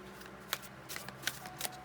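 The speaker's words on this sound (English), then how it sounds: "Shuffling on camera today, as you can see." Tarot cards are shuffled by hand in several quick riffling bursts with crisp papery snaps, quiet and close, with no talking.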